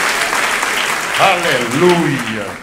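A church congregation applauds in a steady wash of clapping while a voice calls out loudly over it.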